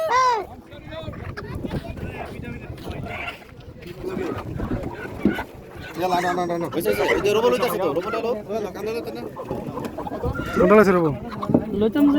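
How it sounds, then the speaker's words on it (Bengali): Roosters cluck and call at a chicken shop in an old market in Saudi Arabia, their cries rising repeatedly under steady nearby talk and market bustle. "দেখতে পাচ্ছেন বিশাল বড় বড় রাতা"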